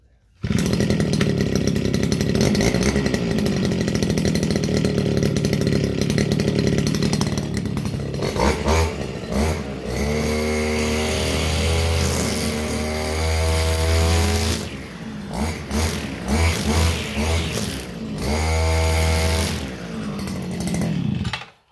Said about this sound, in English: We have a Stihl FS 230 brush cutter. I'm quickly gonna start it and let it warm up some bit.